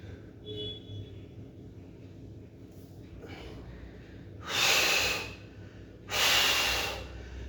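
A person breathing during a yoga stretching exercise, two loud, close breaths around the middle and end of the clip, each lasting about a second, over quiet room noise.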